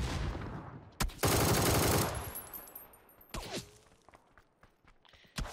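Gunfire in the PUBG video game: a dense burst of automatic fire followed by scattered sharper shots and a few footsteps, heard fairly quietly without talk.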